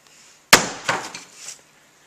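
A hammer smashes into a zombie target's skull with one sharp, loud crack, then a couple of quieter crunching, clattering impacts trail off over about a second.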